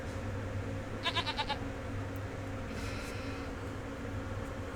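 Sheep on a farm in a video game bleat in a short burst of four or five rapid wavering calls, followed by a fainter bleat, all over a constant low mechanical hum.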